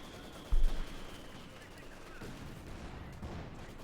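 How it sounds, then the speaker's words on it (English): A mortar half-track firing in the WWII strategy game Company of Heroes 2, one distant deep thump early on amid low battlefield rumble, with a voice talking over it. "Mortar half-track laying down a bit more fire here."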